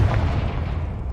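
Confringo spell blast in Hogwarts Legacy, a short low booming explosion that starts loud and rumbles briefly before fading.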